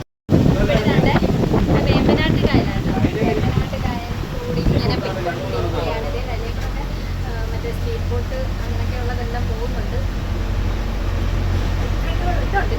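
A boat cruises on the Alappuzha backwaters, its steady engine drone running throughout while wind buffets the microphone; a voice talks over the opening seconds, then the engine and wind carry on alone.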